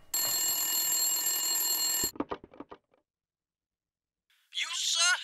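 A telephone rings with a steady electronic bell tone in the Silent Hill video game, stopping abruptly after about two seconds, followed by clicks, silence and a voice.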